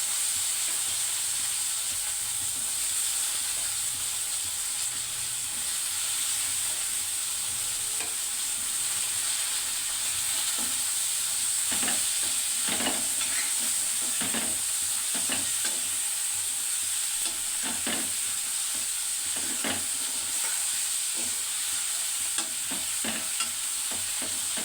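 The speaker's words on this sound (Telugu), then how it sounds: "వంకాయలు వేస్తున్నా ఫ్రెండ్స్." Eggplant pieces fry in a pan with a steady sizzle and hiss while a spoon stirs them in scattered scraping strokes that grow busier toward the end, close and clear with no talking.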